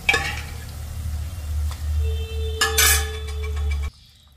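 Chana dal with bottle gourd poured into hot tempering oil gives a loud, hissing sizzle that flares up, with light clinks of a pan, then cuts off abruptly.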